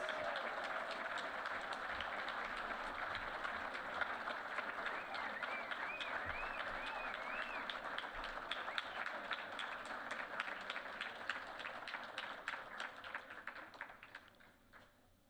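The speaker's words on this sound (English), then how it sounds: "Please give him a big round of applause." Sustained applause from a large crowd at an awards event, dense, steady clapping that carries on for a long stretch before thinning and fading out at the end.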